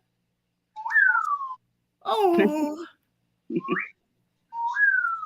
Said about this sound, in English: He gave you the wolf whistle.